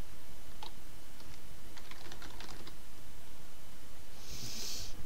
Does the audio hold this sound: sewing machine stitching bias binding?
no